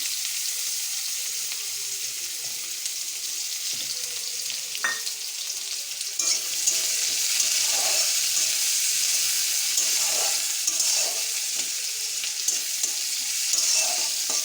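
Onion frying in hot oil with cardamom, cloves and cinnamon, a steady close sizzle that grows louder partway through, with occasional stirring clatter and no talking.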